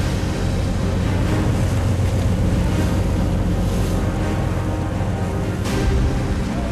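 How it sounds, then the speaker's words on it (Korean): Rough sea in a storm with heavy rain surges and crashes around a fishing boat out at sea, a dense, constant roar of water and wind with no voices. "갑자기 파도가 거세다."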